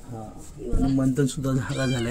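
A lost stray cat meows at night after heavy rain, giving loud, drawn-out, plaintive cries close by, while a person speaks briefly at the same time.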